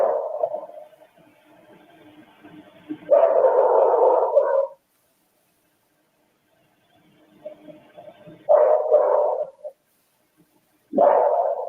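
A dog barks in a few muffled, low bursts spaced out over several seconds, heard indistinctly as if from a distance or behind walls, separated by near silence.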